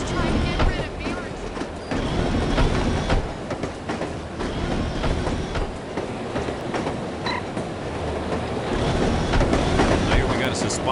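Train rolling on rails in the video game No One Lives Forever, a continuous rumbling clatter with repeated clicks from the wheels and track, steady and fairly loud throughout with no break.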